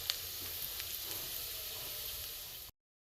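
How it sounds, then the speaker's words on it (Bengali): Cumin seeds and a bay leaf crackle in hot oil, giving a soft, even sizzle with a couple of faint pops throughout, then cutting off abruptly near the end. "এখানে আমি জিরে ফোড়ন দিয়ে দেবো"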